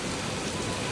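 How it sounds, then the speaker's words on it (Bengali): Heavy monsoon rain pours down on a flooded Dhaka street in a dense, constant roar that fills the space, and no voices break through it. "প্রচুর বৃষ্টি।"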